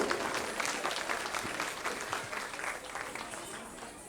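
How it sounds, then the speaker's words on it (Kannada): Audience clapping after a children's kolata folk dance performance at a dance school show, a dense, steady round of applause that carries on throughout at a fairly even level. "ಅವರಿಗೆ ಮತ್ತೊಂದು ಸರಿ ಜೋರಾದ ಚಪ್ಪಾಳೆ ಬರಬೇಕು"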